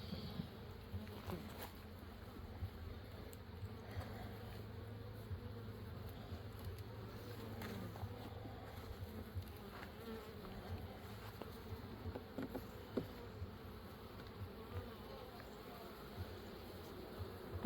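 Dense, steady buzzing of many honey bees up close around an open hive during inspection with smoke, a continuous hum with occasional louder passes of individual bees.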